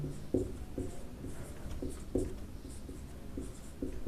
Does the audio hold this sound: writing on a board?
yes